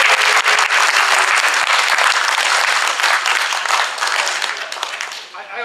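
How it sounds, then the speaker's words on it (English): A loud, sustained round of applause from a sizable audience at a Weston city meeting, dense clapping that gradually thins out near the end. "I think it would be fitting and appropriate that we give a round of applause to Larry Rothman."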